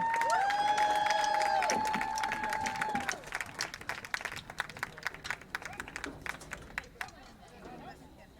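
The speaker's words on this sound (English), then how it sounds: "let's have a nice applause for all of them" A crowd applauding and cheering seniors at a varsity high school football game, loud clapping at first that thins out into scattered individual claps, with voices in the stands.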